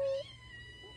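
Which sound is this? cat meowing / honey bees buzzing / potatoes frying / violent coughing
cat meowing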